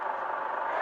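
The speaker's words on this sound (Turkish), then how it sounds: "Bir yandan çekicinin sesini de duyun istiyorum." Volvo FH16 truck engine from the mobile game Truck Simulator Ultimate, driving on a snowy road, a steady mid-pitched engine drone with a faint clattering texture, continuous and fairly even throughout the short stretch.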